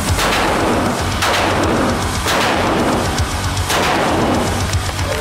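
A big gun fires again and again, with several heavy booming blasts about a second apart, loud and close, each one ringing out over a constant roar of wind or noise.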